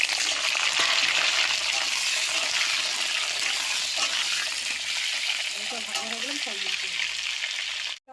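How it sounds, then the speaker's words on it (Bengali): Steady crackling sizzle of potatoes frying in hot oil with salt and turmeric fills the whole stretch, with a brief stirring clatter near the end. "একটু নুন, অল্প একটু হলুদ দিয়ে আমি ভাজা করে নিয়েছি আলুটাকে"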